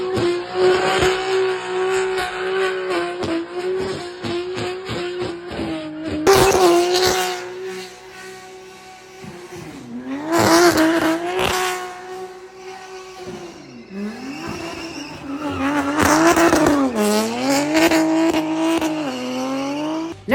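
A BMW F80 M3 accelerates hard away, its engine rising and falling through several loud revving pulls. Tires squeal as it leaves, with no voices heard.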